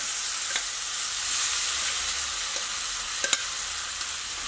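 Cooked chickpeas and plantain being stirred into a frying pan for Kerala koottu curry, with steady sizzling hiss throughout and a few faint scrapes of the spoon against the pan.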